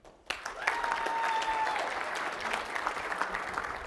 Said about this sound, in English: you can just give me some applause